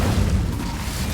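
Incendio fire spell cast in Hogwarts Legacy, a brief dense low booming whoosh of flame, steady and loud throughout with no gaps.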